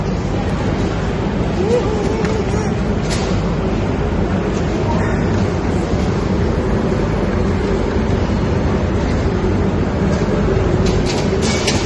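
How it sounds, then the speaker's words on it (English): A departing train rumbles steadily with a low, continuous roar of wheels on track, heard from inside, with occasional clicks and faint talk. "So our train has just taken off"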